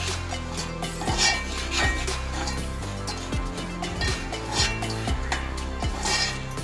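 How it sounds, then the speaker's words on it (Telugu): Semolina (rava) roasting in a pan while a utensil scrapes and stirs it in repeated rhythmic strokes, close and fairly loud with faint clinks. "రవ్వ గోల్డెన్ బ్రౌన్ కలర్ వచ్చే వరకు రవ్వ నీట్గా ఎంత బాగా వేయించుకుంటే అంత టేస్ట్గా ఉంటుంది"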